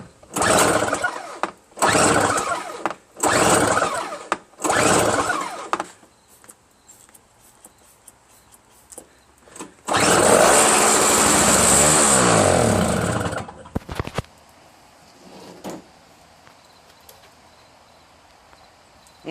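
A free Lawnboy 320R two-stroke single-stage snowblower running on bad gas sputters through several short loud bursts, stops, then roars for a few seconds before dying, followed by faint knocks.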